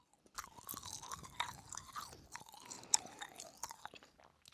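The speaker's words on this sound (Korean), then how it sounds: "이거 파인애플 문어 전언니 거에만 들어있는 젤리입니다 아! 한 입에 먹었다" Close, soft chewing of a sour pineapple-flavoured octopus-shaped gummy jelly, a steady run of small wet squishes and faint crunchy bites with no talking.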